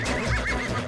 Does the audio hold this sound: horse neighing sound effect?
yes